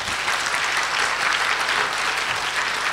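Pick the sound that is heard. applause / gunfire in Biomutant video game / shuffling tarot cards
applause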